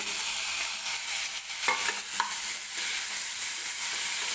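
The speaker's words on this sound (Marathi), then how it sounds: "आता टोमॅटो घेतलेला आहे, तो टोमॅटो सुद्धा टाकून घेते मी." Chopped tomato going into a pan of lightly golden fried onion, a steady loud sizzle with a couple of brief stirring scrapes, no talking.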